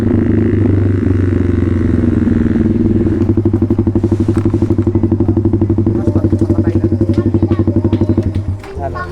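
Suzuki Raider 150 FI motorcycle with an open pipe, its engine running loud and close with a throbbing exhaust that turns into a rapid, even pulsing beat before easing off near the end.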